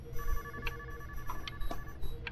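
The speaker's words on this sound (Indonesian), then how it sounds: "Bentar, ini ada telepon cuy harusnya." A telephone rings in a hospital scene of the game Before Your Eyes, with repeated short electronic trills over a low background hum, moderately loud and close.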